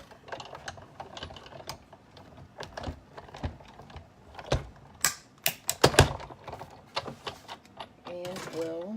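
Card stock for a Halloween gate fold card and treat box is fed through a die-cutting machine, giving a rapid run of sharp mechanical clicks and clacks, close and fairly loud, with a brief whirring rattle near the end.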